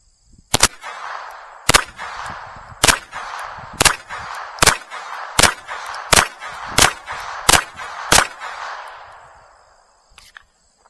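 FN502 pistol firing test ammunition: ten sharp, loud shots at a fairly steady pace of roughly one per second, each with a short ringing tail, with no talk over them.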